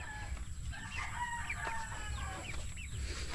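Chickens on a farm cluck and call close by, with a rooster's crow mixed in; the bird sounds come in short repeated bursts over a steady low background and no one speaks.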